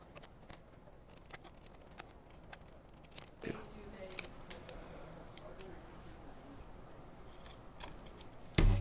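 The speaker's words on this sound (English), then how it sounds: "I'm just going to cut this. Just cut this off here." Scissors snip through FPV goggle foam and material, several close, crisp cuts in an irregular rhythm over a steady background hiss, ending in a louder bump.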